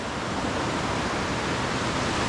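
The Šujica river near Tomislavgrad pours into a sinkhole cave, a loud, continuous rushing roar of flowing water, close and steady throughout.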